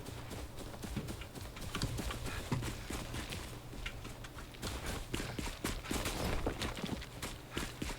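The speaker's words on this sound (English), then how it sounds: "Run, goat, run." A goat runs in the video game Enshrouded, its hooves clopping in a quick, steady patter over a continuous game background with a low hum, moderately loud throughout.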